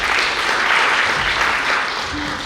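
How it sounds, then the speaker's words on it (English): An audience at a team fest event claps again for a speaker, a dense, steady burst of applause filling the room at close range, with faint voices mixed in. "Let us clap for him again, please."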